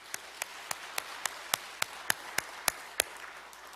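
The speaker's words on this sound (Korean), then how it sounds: "하나님께 영광과 감사의 박수." Church congregation clapping at a Sunday service, a run of evenly spaced, sharp claps in a slow steady rhythm, quiet and somewhat distant with no talking over it.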